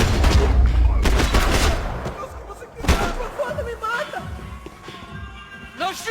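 A fierce volley of gunfire rattles in a Max Payne 3 cutscene, loud rapid shots crowding the opening seconds, then thinning to scattered bangs and impacts as voices shout over it.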